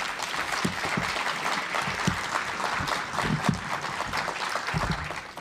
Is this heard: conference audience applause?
yes